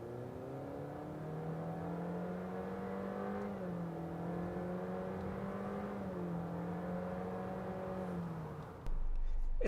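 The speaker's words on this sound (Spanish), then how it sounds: "Vamos a hacer una pequeña probita de aceleración en el nuevo Honda Accord" A 2018 Honda Accord Sport with a ten-speed automatic accelerates steadily from inside the cabin, the engine note climbing through several smooth upshifts with a steady rising hum before cutting off abruptly at the end.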